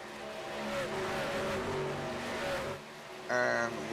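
Racing trucks in a video game truck series at Charlotte roar together, engine tones rising and falling in a dense pack, then a sharper revving burst near the end.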